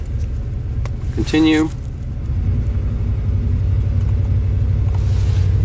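A rebuilt Ford big block engine warmed to operating temperature idles with a steady low rumble, shaking and running on close by, as a brief electronic chime sounds and a voice speaks over it.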